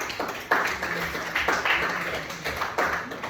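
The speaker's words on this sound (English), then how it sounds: "Let's give her a round of applause for that." A brief burst of clapping from a small class group in a physical education lesson, a few uneven rounds of claps heard close by in a room.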